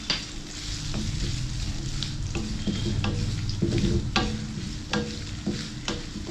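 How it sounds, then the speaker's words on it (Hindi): Ginger and garlic stir-frying with chilies in a hot pan for kung pao chicken, a steady loud sizzle with scattered clicks and scrapes of a spatula tossing the mix throughout, no voices. "अब डाल देते हैं जिंजर और ये गार्लिक, दोनों ही 2 स्पून्स हैं।"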